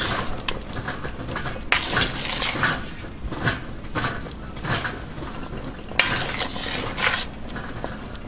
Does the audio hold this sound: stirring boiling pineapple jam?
yes